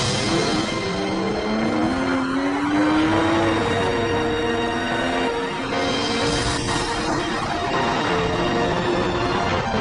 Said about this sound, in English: 460 horsepower V12 engine.